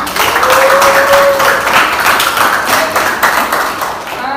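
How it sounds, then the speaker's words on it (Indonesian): Classroom applause from a group of students during a teaching practice lesson, a dense, steady clapping that stays loud for about four seconds before starting to thin, with a faint tone briefly riding over it. "Oke, aplaus untuk semangat kita semua."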